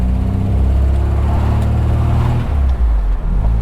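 MGB Roadster, freshly fitted with polyurethane bushes, driving along a road: a steady, loud low engine drone and road rumble continue throughout, with no talk.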